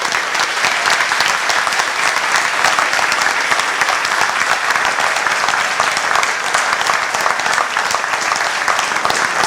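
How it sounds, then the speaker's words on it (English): A large audience at a talk on activism gives a long, loud round of applause, with many hands clapping in a thick, even wash close by that holds steady from start to finish without speech. "a big round of applause for our guests today."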